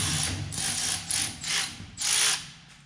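A ratchet with a socket clicks in a series of quick bursts on a JCB 526 engine, about five close, rapid pawl-clicking runs with short pauses between them.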